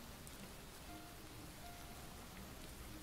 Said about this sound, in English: You can hear the rain very well.